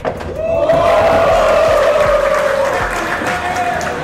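A crowd at a 10-ball billiards match roars and cheers after Efren Reyes's first shot, a loud, sustained burst of shouting and applause that holds steady for several seconds.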